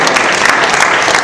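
A church congregation claps together in steady, dense applause for a brief moment, loud and close, with no talking over it.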